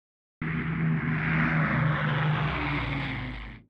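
Avro Lancaster bomber propeller engines in film footage give a loud, steady multi-engine drone that starts abruptly, holds evenly and then cuts off, with no voices.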